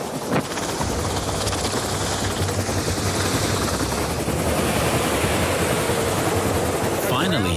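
A rescue helicopter on a beach with the tide coming in, its engine and rotor roaring loud and steady throughout, close by, with wash-like broadband noise and a faint voice speaking underneath.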